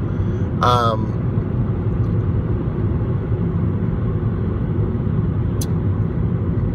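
A car rolls along the road in a steady low rumble of engine and tyre noise heard from inside the cabin, with a brief chirp near the start.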